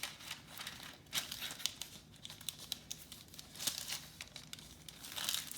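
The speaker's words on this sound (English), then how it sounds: "So I'm just putting a layer of parchment down." Parchment paper laid onto a half-sheet baking tray, soft crinkling and rustling in irregular bursts, close and fairly quiet, with no talking.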